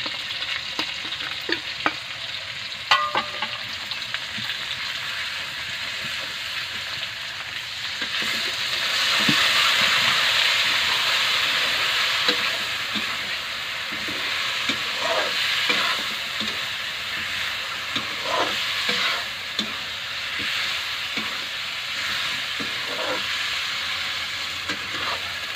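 Badhar flowers stir-fried in a pan for a vegetable dish, giving a continuous soft sizzle with intermittent scraping and stirring clicks, moderately close and without talk.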